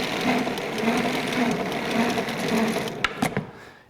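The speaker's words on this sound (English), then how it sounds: "it's going to nicely wind that hose up so that we don't get tangles when we're pulling it out" A Jamec Pem Pro X Extreme air hose reel winds its hose in with a steady whirring, rhythmic mechanical rattle, then ends in a few sharp clicks and clunks as it stops.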